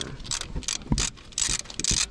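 Socket ratchet loosening a 15 mm bolt on a Chrysler 2.7 engine, a few short bursts of close, crisp metallic clicking with brief pauses between strokes.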